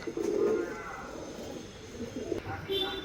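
Girebaaz pigeons coo in soft, low, repeated calls from close by, overlapping with someone talking and faint background noise.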